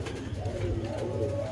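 Low, rolling coos from pouter pigeons kept in a loft, a steady murmuring purr running continuously through the moment at moderate level with no talk over it.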